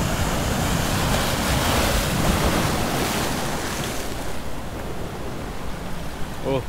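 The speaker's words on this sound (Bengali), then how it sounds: "খুব সুন্দর লাগছে জলের শব্দ। এই যে একটা বড় ঢেউ আসছে।" Sea waves break on Sankarpur beach at ebb tide, making a loud, continuous roaring wash with steady surf and wind noise that eases slightly toward the end.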